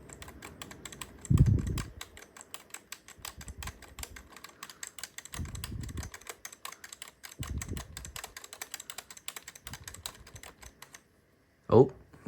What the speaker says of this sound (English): Try spamming both of these keys here.